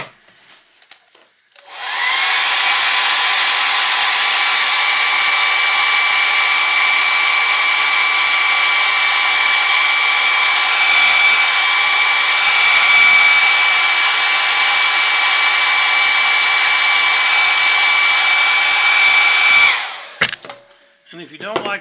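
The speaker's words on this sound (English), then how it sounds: "Hairdryer." A hair dryer, used while painting a carved wooden bear, switches on and runs for about eighteen seconds as a loud, steady close whoosh with an even whine, then cuts off with a click.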